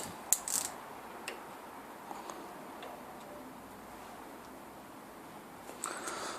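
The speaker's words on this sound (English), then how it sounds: "So now you can tighten up the crank bolt." A crank bolt is tightened on a Land Rover Hitachi or Dunlop air suspension compressor, with a few faint, sparse ratchet clicks over quiet background hiss.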